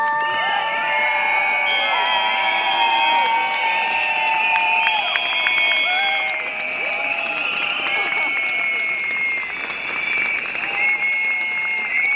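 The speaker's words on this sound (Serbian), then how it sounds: "Jedan veliki aplauz za sve nas ovdje danas." A crowd at a rally outside the Serbian embassy in Vienna applauds loudly and continuously, with cheers, whoops and whistles rising over the sustained clapping for about twelve seconds.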